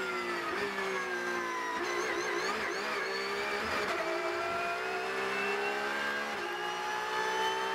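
A Porsche Cup race car at the Red Bull Ring on a qualifying push lap, its engine screaming loud and close from onboard, rising through the revs with gear changes and brief dips before climbing again.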